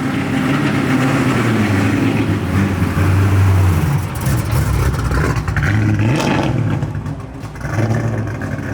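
A 720 hp all-motor Chevy Camaro IROC-Z with an LS7 V8 rumbles loudly close by, its engine droning and revving with rising and falling pitch, building and easing off repeatedly as the car moves.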